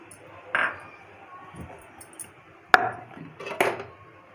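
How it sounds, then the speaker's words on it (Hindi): A metal lid clinks onto a pot of Hyderabadi egg dum biryani in a home kitchen, giving a few short, sharp clatters spaced apart against a quiet background. "मैं ढक्कन लगा देती हूँ"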